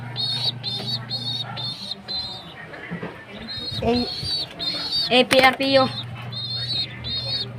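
Pet pigeons cooing in soft repeated bursts close by, with someone talking over them and a brief louder clatter near the end.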